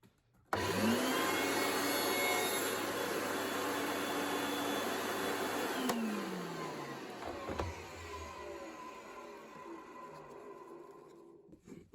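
An old 800-watt Hoover Powerglide Super Suction S4256 upright vacuum cleaner starts abruptly with a loud whine, runs steadily, then winds down with a falling pitch to a low rumble and stops.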